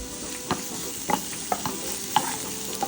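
Chopped onions with green chili and salt sizzle quietly in a pan, broken by a few sharp clicks of a stirring spoon against the metal.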